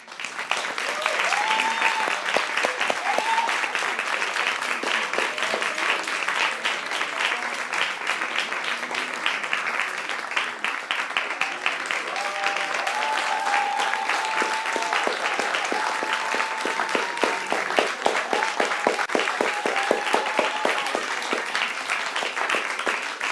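A quiz-show audience applauds the junior schools quiz champions with steady, dense clapping and scattered cheers throughout, with a voice speaking over the crowd.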